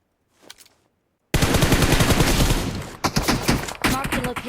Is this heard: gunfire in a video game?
yes